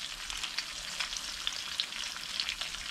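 Steady crackling sizzle of a whole fish frying in a pan over low to medium-low heat, moderately close, with a dense, even hiss and small pops throughout, no voices.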